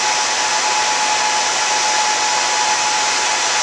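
A Dell PowerEdge C410x expansion chassis runs with its cooling fans spinning at full tilt, a loud, steady broadband whoosh with a faint constant whine, unbroken throughout.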